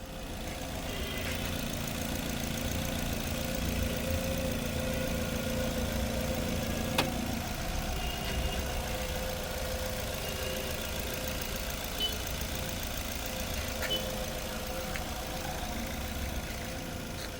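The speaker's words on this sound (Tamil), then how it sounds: "இந்த வண்டியோட இன்ஜின் சவுண்டுமே இந்த ஷார்ட்ஸ்லேயே நான் அட்டாச் பண்ணி காட்டுறேன்" A 2013 Maruti Swift Dzire automatic petrol car idling, its engine giving a steady, smooth low hum that holds evenly throughout, with a faint click partway through and no talking.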